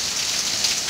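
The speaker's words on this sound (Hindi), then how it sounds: "बारिश हो रही है बहुत तेज वाली" Heavy rain pours steadily in a dense, even hiss with no pauses or voices.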